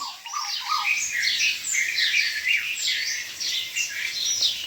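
A dense chorus of birds chirps and squawks nonstop, many overlapping calls at middle distance with no talking.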